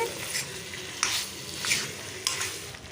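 Chicken pieces fry with a steady sizzle in a pan while a spoon stirs them, giving four scraping strokes at a loose, even rhythm over a continuous crackle. The sound is close and moderate in level, with no talking.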